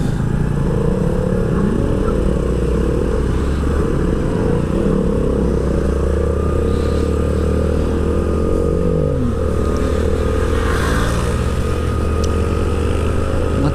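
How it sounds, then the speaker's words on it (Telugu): Sports motorcycles such as KTMs and Yamaha R15s ride past on a busy road near Nandi Hills, a continuous loud engine drone with rising revs and passing swells, no speech. "మొత్తమే సూపర్ బైక్స్, కేటీఎంలు,"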